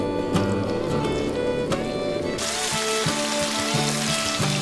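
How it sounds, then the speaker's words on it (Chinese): Chicken leg pieces fry in plenty of oil in a wok, a continuous close sizzle and crackle that sharpens and brightens partway through, with occasional soft pops. "在锅中尽量多加一些底油，然后用低温下入鸡腿"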